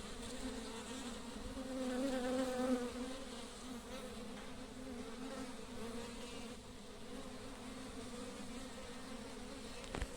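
Worker bees from a wild cavity nest buzzing as they circle near their hive, a continuous droning hum with a louder swell as some fly close, then steadier buzzing, no talk.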